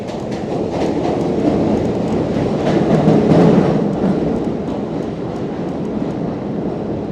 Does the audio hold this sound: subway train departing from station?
yes